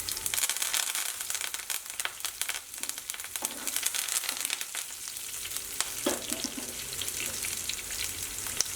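Green chillies and curry leaves sizzling in hot oil, a loud, steady crackle and hiss with occasional sharper pops and stirring scrapes.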